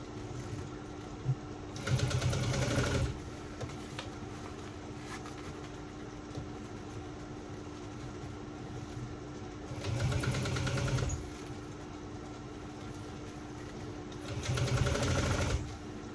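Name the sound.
sewing machine stitching a shoulder bag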